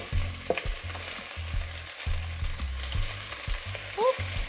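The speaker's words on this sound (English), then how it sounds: "I'm gonna go ahead and add all of this broccoli" Broccoli drops into a pan of sizzling garlic and olive oil, giving a close crackling sizzle broken by scraping and clunks of the pan and utensil.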